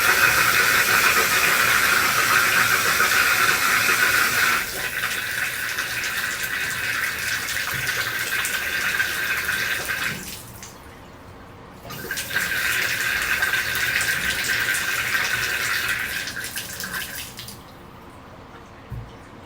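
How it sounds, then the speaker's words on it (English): Water runs from a Moen tub faucet after a cartridge replacement, a steady, loud hissing rush that drops off near five seconds, stops briefly, surges again, then dies away near the end. "open the water on the left side here"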